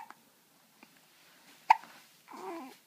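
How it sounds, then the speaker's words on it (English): A young child hiccups: a couple of soft, brief hiccups, then one sharp, louder hiccup close by, followed by a short burst of babbling vocal sound. "you have the hiccups again?"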